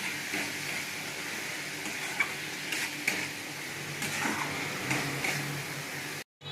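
Chicken curry spices sauté and sizzle in a pan with a splash of water, a steady close frying hiss broken by a few soft stirring scrapes and clinks, with no talking, before a brief cut to silence at the end.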